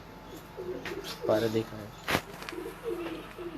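Pigeons in a coop cooing in soft, low repeated phrases at moderate distance, with someone talking over them and a sharp clatter midway.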